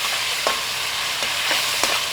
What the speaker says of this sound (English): we're gonna add our scallops and our shrimp. And we're gonna give those a quick little cook